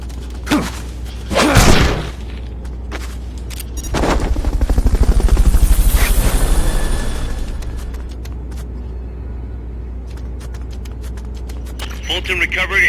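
A Fulton recovery helicopter's rotor chop in Metal Gear Solid: Peace Walker swells in and fades away over several seconds, mixed with game sound effects and a sharp thump beforehand.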